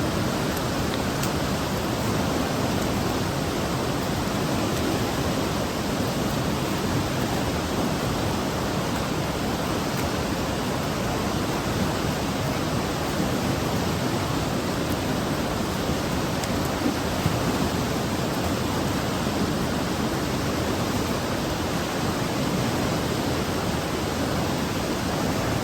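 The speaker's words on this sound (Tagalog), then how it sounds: "Sarap po pakinggan ng alon" Steady broadband wash of surf breaking on a shore, a continuous roar with no pauses and no voices.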